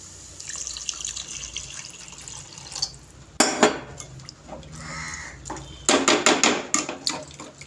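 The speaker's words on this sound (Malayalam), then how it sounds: "അതിനകത്തോട്ട് വെള്ളം ഒഴിച്ച് കൊടുക്കുക" Water splashes and pours into a pot in a few bursts, with metallic clanks and scraping between pours, close by.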